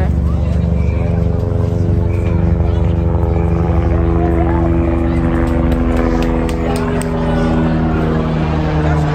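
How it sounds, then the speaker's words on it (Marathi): A helicopter passes overhead near an international airport, its loud, steady rotor and engine drone filling the air continuously, with a low throbbing rumble that holds close and strong throughout. "आता हेलिकॉप्टर गेलं."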